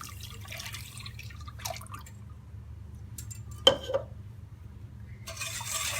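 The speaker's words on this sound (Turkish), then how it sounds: "Şekerini, sütünü ilave ediyoruz." Sugar and milk poured into a pot or bowl for homemade cake cream, giving a soft liquid trickle with a couple of light clinks and drips, fairly quiet and close over a low background hum.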